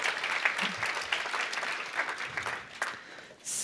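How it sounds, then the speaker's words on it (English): Conference attendees applaud a panel taking the stage, a moderate crowd of clapping hands that thins toward the end before a brief louder swell, heard from within the room. "Let's give the panel an applaud now."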